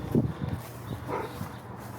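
A puppy barks nearby during an outdoor dog-training walk, giving a few short yips and barks over steady background noise, with no one speaking.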